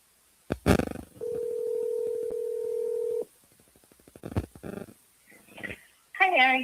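A telephone dials a number: one long steady tone plays for about two seconds, followed by a quick series of short keypad beeps. Voices are heard briefly at the start and end.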